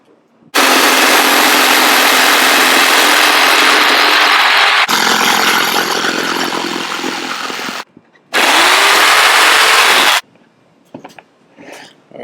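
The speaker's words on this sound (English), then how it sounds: "This is why we prepped our shapes with that bit, so it'll be easier for our jigsaw to" A jigsaw cutting prepared wood shapes, loud and close, running in long continuous bursts with brief stops between cuts, then a few faint clunks as the tool settles.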